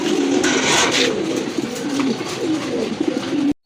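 A pair of pigeons offered for sale coo steadily and loudly up close for several seconds, low rolling calls repeating without pause before an abrupt cut.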